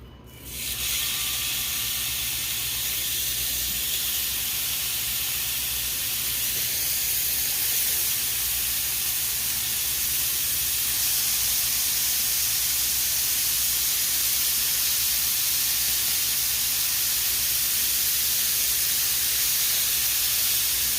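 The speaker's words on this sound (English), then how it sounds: "I'm gonna make some patties and then get them on the griddle here." Beef patties sizzle on a worn, rough indoor griddle with a loud, continuous hiss that starts abruptly and holds steady throughout, with no talking over it.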